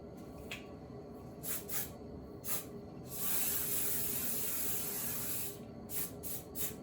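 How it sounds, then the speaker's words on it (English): Hairspray misted onto short hair in several quick short bursts, followed by one longer continuous hiss of about two seconds and then more rapid short sprays, close and clear with no talking. "So now that I have the sides done, I just go in and spray it where it is,"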